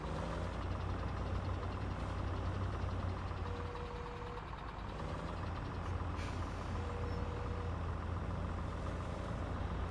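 A farm tractor engine running steadily in a farmyard, a constant low rumbling drone with a faint tonal whine, moderately distant and unchanging throughout.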